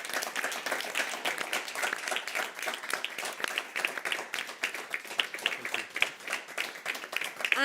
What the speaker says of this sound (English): A great applause.